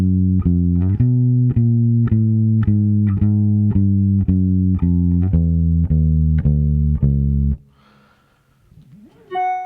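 A bass guitar plays a walking bass line with approach notes, a steady run of clear, evenly spaced plucked notes, loud and close, ending with a brief noisy pause and a short rising tone.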